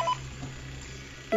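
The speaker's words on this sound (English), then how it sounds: "The phone is ringing." A phone rings in the horror video game Five Nights at Freddy's 2, a short electronic tone that is faint and brief, heard alone without talk.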